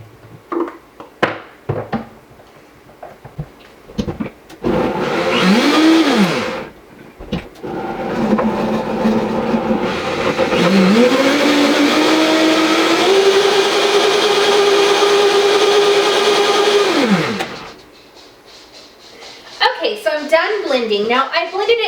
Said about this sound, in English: I'm going to blend that up if I can find my lid